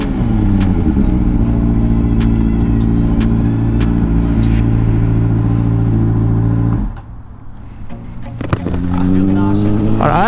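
A 2005 Honda CBR 600RR motorcycle engine runs loud and close with a steady, throaty drone; the pitch climbs and holds, then the engine drops briefly toward idle near the end before revving back up.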